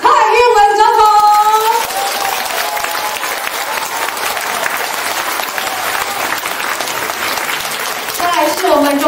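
An audience at a DPP Hualien county party flag-presentation rally applauds loudly to welcome President Tsai Ing-wen, a sustained wash of clapping between a voice speaking at the start and again at the end.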